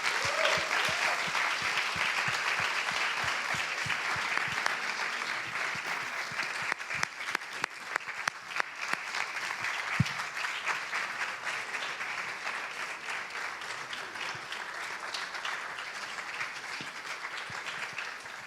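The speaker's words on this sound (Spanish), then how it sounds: "I ara us demanem un fort aplaudiment per ells" Cinema audience at a film retrospective applauding the guest filmmakers, long steady clapping from a sizeable crowd, with a few sharper individual claps standing out midway.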